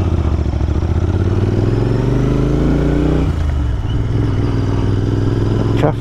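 A Royal Enfield Interceptor 650 Mark 2 motorcycle engine throbs at low revs, loud and close, with a steady deep rumble that dips briefly before settling again.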